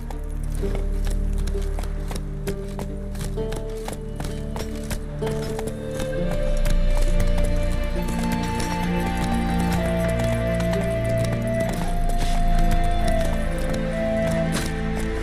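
A horse gallops in the video game The Witcher 3, its rhythmic hoofbeats steady and close throughout under an ongoing music score, with a little game voice.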